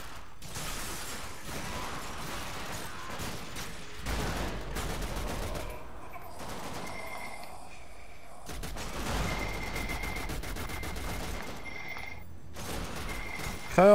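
Gunfire in the co-op shooter video game The Darkness 2, a dense run of rapid shots and mechanical weapon noise lasting throughout, loud and steady with brief pauses.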